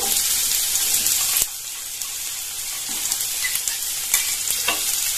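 Chopped onion and green chilli fry in hot refined oil with a loud, dense sizzle, broken by a sharp click and occasional scrapes as the pan is stirred.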